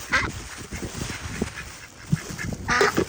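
Ducks at a windy lake give a few short, honking quacks that come close and fairly loud, with a gusty wind rumbling in the background.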